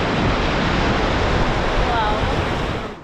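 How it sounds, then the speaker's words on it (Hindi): The Indus (Sindhu) river flowing at Sonamarg, a steady, loud, close rushing of water that holds constant and fades slightly at the very end. "अब मैं आ गई हूँ सिंधु नदी के पास, करीब से आप देखो इसको।"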